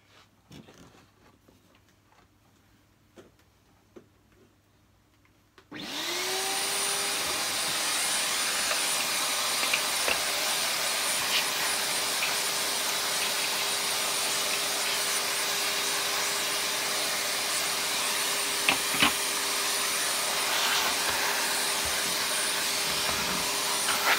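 A wheeled vacuum cleaner starts up abruptly after a quiet stretch, then runs at a loud, steady roar with a constant motor whine, nearby and without talk.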